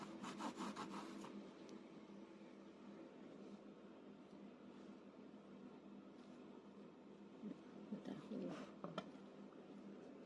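A knife trims the edge of fondant icing on a low-calorie cake with soft, close rubbing and scraping strokes, steady and faint throughout, with a few sharper scrapes toward the end.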